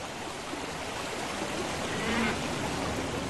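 The Machu River flows across a high plateau wetland in Maduo County, giving a steady, even rush of running water that holds unchanged throughout, with no voices.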